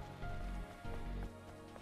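Steady rain falling in the video game Stellar Blade, a soft, continuous patter with a few slightly louder surges, heard alone without voices.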